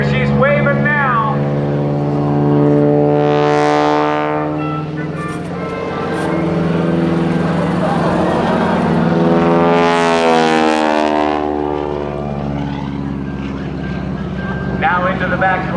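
A 450 horsepower Stearman biplane engine drones loudly and steadily as it climbs at a Naval Air Station Oceana airshow, swelling and fading in pitch as it passes, with commentary over the public address.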